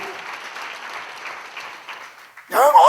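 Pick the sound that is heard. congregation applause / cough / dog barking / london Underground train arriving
congregation applause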